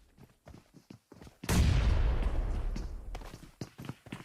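Loud burst of gunfire from the battle royale game PUBG Mobile during a DRX esports match, a dense roaring volley of shots erupting suddenly and sustained for a couple of seconds amid scattered game sounds.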